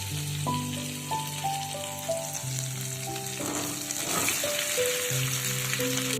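Sweet potatoes and potatoes frying in hot oil with coriander, a steady close sizzle under a constant hiss, while a sustained tonal hum runs through the background and nobody speaks.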